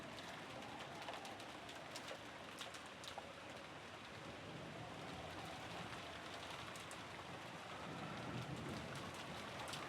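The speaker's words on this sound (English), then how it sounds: "disappeared beneath the sound of the rain" Steady rain falls in the Umineko visual novel game, a dense, continuous wash of patter with bird cooing like a dove or pigeon faintly mixed in, even and unbroken throughout with no voices.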